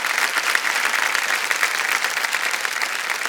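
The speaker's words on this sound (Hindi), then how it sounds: "एक बार जोरदार तालियां बज जाएं इनके लिए।" A game show studio audience on the KBC set breaks into loud, dense applause, a continuous close wash of many hands clapping with no talk over it.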